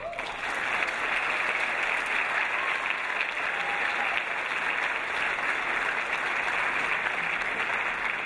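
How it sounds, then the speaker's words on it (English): An audience at a Dean's List ceremony claps for the honoured students, producing steady, even applause with no talking, held at a moderate distance for the whole stretch. "Please join me in applauding the excellent work of our Dean's List students"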